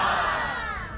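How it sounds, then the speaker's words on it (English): A crowd at the Tampa Bay Renaissance Festival roars a loud, sustained group shout of huzzah in response to a street performer, a brief swell of many voices together. "When I yell it gets better, you say huzzah"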